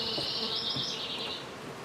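Bees buzz loudly and close during a beehive inspection in southwest Michigan, a dense steady drone with individual insects passing near, fading slightly toward the end.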